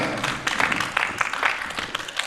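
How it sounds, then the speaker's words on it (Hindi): A theatre audience claps for the director of the play Cactus, a dense, continuous wash of hand claps filling the hall with no voices over it. "पहले तो जोरदार इनके लिए ताली बजाइए"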